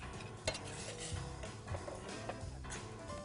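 Spoon stirring coconut cream in a bowl or pot, with soft scraping and clinks spread steadily through the moment, close and fairly quiet, with no talking.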